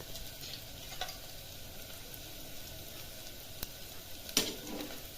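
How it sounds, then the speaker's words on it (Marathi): Chopped onion frying in oil in a pan, giving a steady, even sizzle throughout with a couple of brief stirring clicks and scrapes near the end. "तर पाहू शकता हा कांदा तळत आहे"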